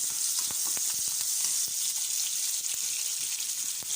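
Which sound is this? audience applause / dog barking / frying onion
frying onion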